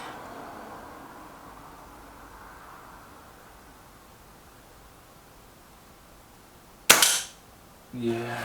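A single sharp air rifle shot from a Reximex Myth or Kral Puncher Maxi cracks loud and close after a quiet, hissy stretch, followed a second later by a fainter metallic noise.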